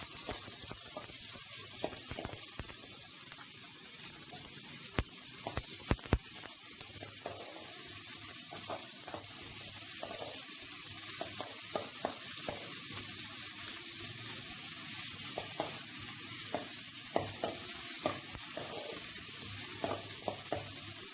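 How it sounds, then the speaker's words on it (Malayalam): Carrots fry with a soft, steady sizzle in a pan for fried rice, with occasional stirring clicks and scrapes, fairly quiet and continuous with no speech. "ക്യാരറ്റ് ഇട്ട് കൊടുക്കാം."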